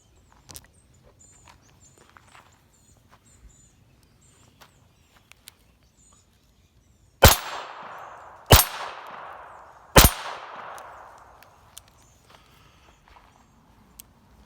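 Three sharp, loud gunshots from a Smith & Wesson 422 .22 pistol, spaced about a second apart, each followed by a short ringing decay, with quiet background between.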